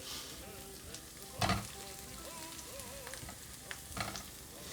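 Parsley stalks frying in hot oil with garlic for spaghetti aglio e olio, giving a steady soft sizzle with a few louder crackling bursts throughout.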